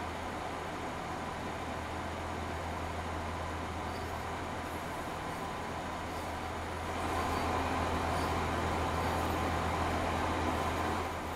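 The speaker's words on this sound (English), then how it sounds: "Oh, another train." A train passing in Train Sim World 2 on the West Cornwall route, a steady rumbling roar with a low hum that swells louder partway through, with no talk over it.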